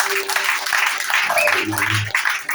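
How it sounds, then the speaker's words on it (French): Church congregation applauding, a dense patter of clapping throughout with a voice and some sung tones mixed in underneath. "Acclame Jésus bien fort."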